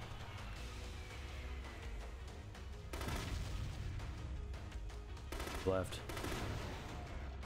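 Repeated blasts and crackling gunfire from explosives being set off in The Conduit video game, with heavier bursts around the middle and near the end, a low rumble throughout and a brief spoken word over it.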